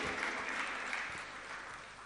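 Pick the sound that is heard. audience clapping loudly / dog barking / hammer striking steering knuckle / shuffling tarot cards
audience clapping loudly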